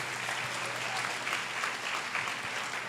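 Steady, loud applause from a large crowd at a church conference, dense clapping that continues unbroken throughout.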